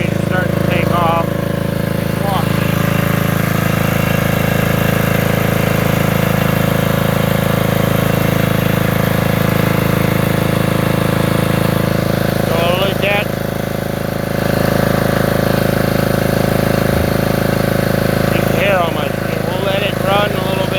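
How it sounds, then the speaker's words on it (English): Portable generator engine running steadily after months of sitting idle, a loud continuous mid-low drone with a steady hum that holds throughout, with brief faint voices now and then. "Now the generator's starting to take off."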